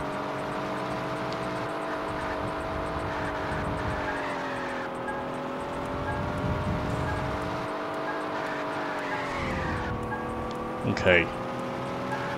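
Car engine accelerating in Knight Rider: The Game on PS2, a steady droning engine tone held under throttle, sweeping in pitch toward the end, with a short spoken word near the close.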